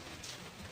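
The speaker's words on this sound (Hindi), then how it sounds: "बारिश बहुत तेज हो रही है" Heavy rain pours steadily close by during a village monsoon storm, a dense continuous hiss with no voices.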